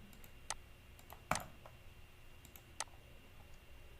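Computer keyboard keys struck while drafting in AutoCAD, several sharp isolated clicks spaced irregularly with one louder tap, quiet room background and no talking.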